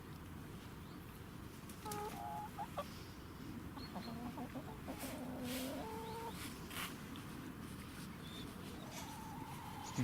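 Chickens cluck quietly and repeatedly, their short calls scattered over a steady background hiss.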